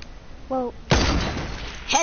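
A single sharp, loud gunshot bursts out up close during Fortnite play, landing a headshot, and its noisy tail fades over the next second; a brief tonal sound comes just before it.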